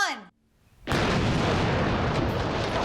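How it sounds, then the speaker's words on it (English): A brief voice fades into a moment of quiet, then a massive binary explosive detonation erupts loud and close, its broad roar rumbling on to the end. "that was a massive explosion"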